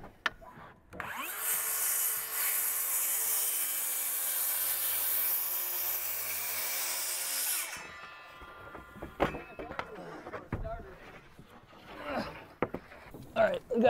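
A power saw cuts through a roof sheathing panel on a log cabin build, a loud, steady high whine for several seconds that stops abruptly, followed by clattering wood knocks and handling sounds with people talking.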